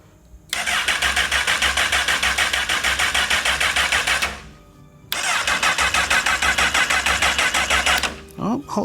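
A rebuilt 2008 Honda CBR1000RR street fighter motorcycle engine cranks on its starter in two long, steady, loud whirring bursts of about four seconds each, with a short third attempt at the end.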